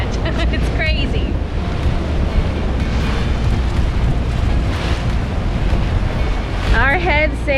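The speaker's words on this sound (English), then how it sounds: "We are getting some water over the bow." Spray and waves crash over the bow of a heeled sailboat pushing fast at sea, a loud continuous rush of water and wind buffeting the microphone, with voices and shrill whoops rising briefly above the roar.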